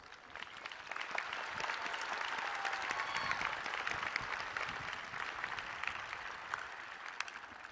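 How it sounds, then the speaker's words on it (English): A large crowd at a university commencement ceremony applauds, a sustained wash of clapping that swells and then slowly thins out. "They deserve another round of applause."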